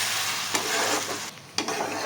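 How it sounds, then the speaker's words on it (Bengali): A spoon scrapes and stirs a chicken sauce mixture in a wok, the sauce sizzling continuously with a couple of sharper scrapes standing out. "এবার ভালো করে মিক্স করতে হবে"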